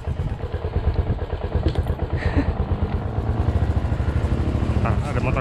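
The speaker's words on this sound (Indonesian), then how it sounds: "Ah, ada motor, ada motor." A motorcycle engine runs close by with a rhythmic, chugging putter that builds slightly in loudness, while people talk nearby.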